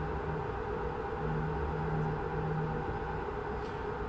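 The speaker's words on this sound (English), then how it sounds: "It's a pretty interesting sound of my truck engine." A steady droning truck engine hum in Euro Truck Simulator 2, with low rumble and faint tonal whine, continuous and even throughout, without speech.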